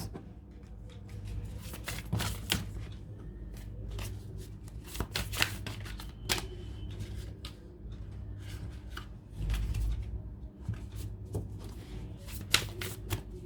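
Tarot cards are shuffled by hand in a quiet room, giving a run of crisp riffles and soft slaps that come in uneven bursts, close and fairly faint.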